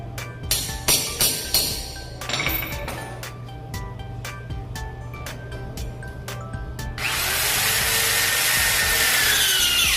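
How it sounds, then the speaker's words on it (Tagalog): Power drill bit biting into a projector screen stand leg clamped with a C-clamp: several sharp taps and scraping, then the drill runs steadily with a loud, continuous whirring grind, close up. "Lagyan po natin ang marker upang hindi po dumulas ang ating drill bit"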